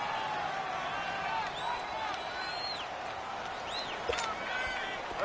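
Steady stadium crowd roar at Arrowhead in a football video game, a broad continuous wash of noise with faint whistles and rising calls over it, and a single sharp thump near the end.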